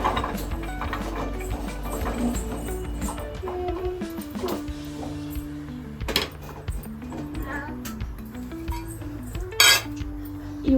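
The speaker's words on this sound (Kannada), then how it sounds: "ಇವಾಗ ಪ್ಯಾನ್ಗೆ ಇದಷ್ಟು ಕ್ಯಾರೆಟ್ನ ಹಾಕ್ಕೋಬೇಕು" Grated carrots are tipped into a pan and stirred for carrot kheer, with metal clinks, scrapes and taps of a spoon against cookware over soft background music.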